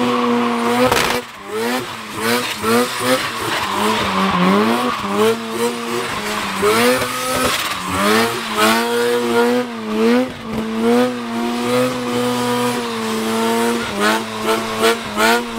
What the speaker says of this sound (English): every video we've done on Car Week so far has had some donuts, some burnouts and some tire smoke